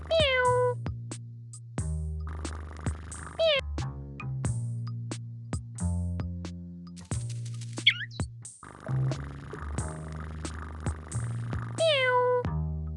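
In a children's English-learning game about pets, a cartoon cat meows repeatedly, with clear, close meows spaced over several seconds among short musical notes and game sound effects.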